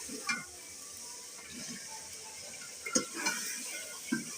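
Potatoes dropped into hot tempering oil in a village kitchen pan sizzle softly and steadily, with a few brief metallic clinks of a stirring spoon against the pot.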